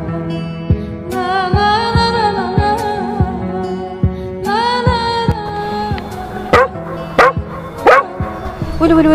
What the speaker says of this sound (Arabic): هاد الكلب شاف شي حاجه ما عجبهاتوش